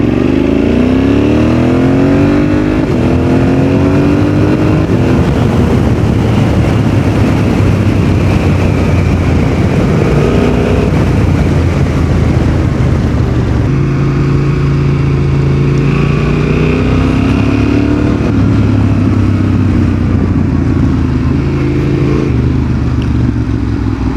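Yamaha Tenere 700 motorcycle with a remapped engine pulling hard under acceleration, loud and close with sweeping rising engine tones, continuous over about twenty seconds with a steady rush of wind.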